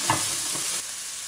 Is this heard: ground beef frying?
yes